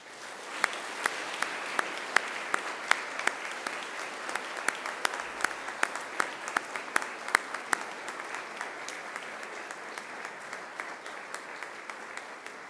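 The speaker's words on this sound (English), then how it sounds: "And now I invite you to give them a mighty round of applause." A large audience at a Macquarie University graduation ceremony applauds continuously, a dense wash of clapping with sharp individual claps standing out, steady and sustained throughout.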